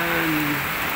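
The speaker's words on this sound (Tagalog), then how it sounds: "Hanggang ngayon, umuulan." Steady rain hisses evenly over a short stretch, with a faint low tone underneath.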